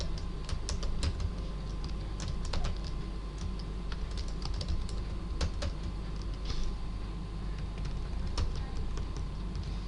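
PHP code goes in on a computer keyboard in a rapid, irregular run of close key clicks over a soft room hum, with no talk.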